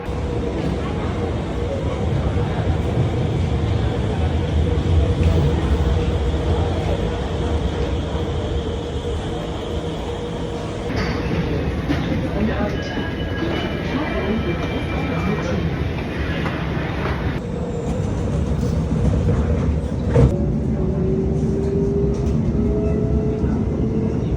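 A Singapore MRT train at Expo station rumbles and hums steadily close by, a continuous loud rolling drone with brake and motor whines shifting throughout; no talk is heard.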